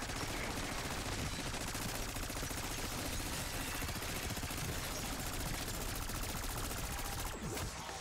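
Continuous automatic fire from an XM4 assault rifle during a Black Ops 6 Zombies match on Liberty Falls, loud and dense for the whole stretch, with rapid shots blurring into a steady roar and no talk over it.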